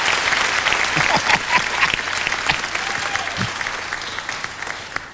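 A telethon studio audience applauds for a 12-year-old boy, dense steady clapping at full strength for several seconds before easing slightly.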